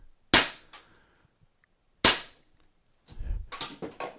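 A stock Umarex TR50 CO2 air pistol fires at a target on an indoor range, two sharp loud cracks about two seconds apart, each with a short tail, followed by brief talking.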